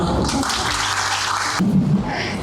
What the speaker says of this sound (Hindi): बहुत बढ़िया, मैम के लिए भी तालियां